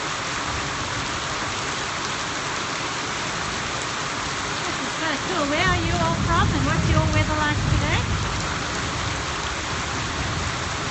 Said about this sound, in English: so we're so excited to have rain that I'm filming